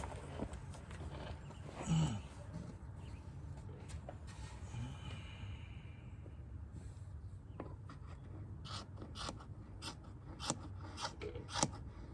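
Scissors trimming material during a leaking boat hull repair: soft snips, a louder cut early on, then a quick run of crisp clicks near the end, quiet and close, no talking.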